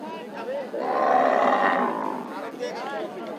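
A single long, deep moo from a bull nearby at a city cattle market in Rajshahi, with people talking faintly around it.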